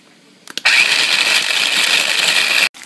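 A kitchen blender grinding almond and onion into paste, starting after a couple of brief clicks and running as a loud, steady whir for about two seconds before cutting off abruptly.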